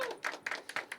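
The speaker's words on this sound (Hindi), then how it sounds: "एक बार तालियां भाई साहब के लिए" Audience at a poetry open mic clapping for a first-time performer, a short run of distinct rhythmic claps, fairly faint and close together.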